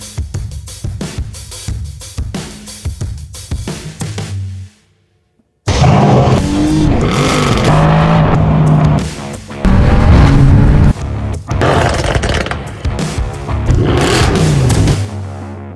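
The engine of a Mercedes-AMG GT R supercar roars in loud, repeated revs, cuts out briefly into near silence, then barks back to life with sustained high-rpm blasts and sharp throttle stabs.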